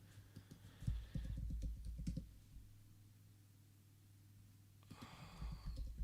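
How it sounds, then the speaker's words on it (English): Quick bursts of computer keyboard typing sound close and quiet, with a pause in the middle before a final run of key clicks. "Got to type the right things in there."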